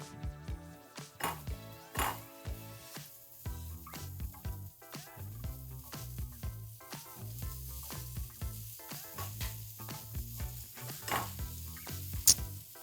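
Chicken cheesesteak meat sizzles steadily in a pan on the stove while a spatula repeatedly taps and scrapes through it in an uneven rhythm, close and clear with no talking.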